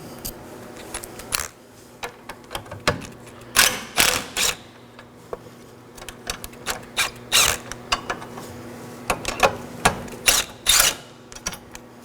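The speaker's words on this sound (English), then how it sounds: "there's two 10mm nuts here connected to J-hooks. We can loosen these a bit, slide the J-hooks out" A ratchet loosens the 10mm nuts on the J-hook battery tie-down of a 2013-2019 Nissan Sentra, making repeated bursts of close, rapid clicking with short pauses between strokes.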